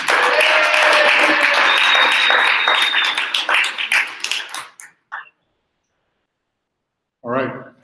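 Audience applause at a tech talk event fills the first five seconds as dense, loud clapping that tapers into scattered claps and then silence, before a single voice speaks near the end.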